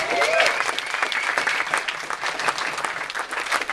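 An audience claps steadily throughout at a book signing event, a dense, even patter of many hands, with a faint tonal sound near the start.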